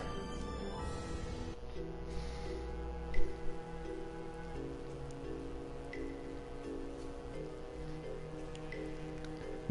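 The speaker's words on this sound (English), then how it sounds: "And I love how everybody's just cool with being in the rain." Steady, even rain falls in the PS4 game Tales of Vesperia, a continuous patter with a few louder drips over the game's background music.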